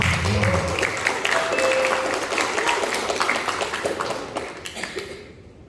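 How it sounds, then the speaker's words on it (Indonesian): A crowd claps in dense applause that gradually thins and fades out, with faint voices mixed in. "Tepuk tangan dulu buat panitia."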